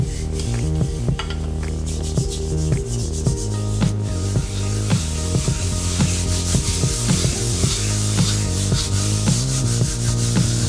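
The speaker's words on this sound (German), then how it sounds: "Ich nehme etwa 20 Gramm Teig und rolle ihn zu einem 10 cm großen Fladen aus." Poori dough being rolled out into a small round with a rolling pin, a steady rubbing, scraping wood-on-board sound with repeated rhythmic strokes, close and fairly loud, without speech.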